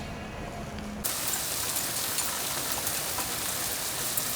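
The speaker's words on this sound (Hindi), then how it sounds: "तो मैंने जब देखा तो देखिए कैसी धुआंधार किस्म की बारिश हो रही है।" Heavy downpour outside, a dense, loud, continuous roar of rain on surfaces that swells suddenly after a quieter start and then holds steady.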